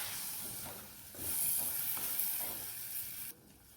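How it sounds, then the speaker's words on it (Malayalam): Shallots, garlic and tomato sauté in hot oil, the same oil used earlier for the okra, for a Kerala-style okra mappas curry. The soft, steady sizzle and hiss has occasional stirring scrapes and no talk. "ആ വെണ്ടയ്ക്ക വഴറ്റിയ എണ്ണയിൽ തന്നെയാണ് ഈ വഴറ്റുന്നത്"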